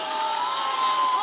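A crowd of fans cheers for Brazil at the FIFA eWorld Cup 2024 final against Indonesia, a brief, steady wash of massed shouting and noise that fills the hall at a constant level.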